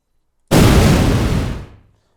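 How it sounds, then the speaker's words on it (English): A single loud bomb blast from the video game Cosmic Chess, a sudden broad boom that rumbles briefly and fades over about a second and a half, with nothing else heard. "I can blow up that bomb."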